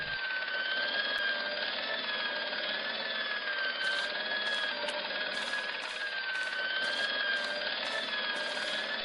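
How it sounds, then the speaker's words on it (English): An industrial polishing machine in the Broken Sword adventure game drones loudly and continuously with a tonal whine, joined midway by rapid rhythmic high clicks or squeaks. "I saw the source of the hellish noise which echoed through the corridors. It was an industrial polishing machine"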